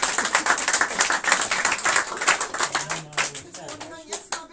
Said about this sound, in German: Ja, können mal alle klatschen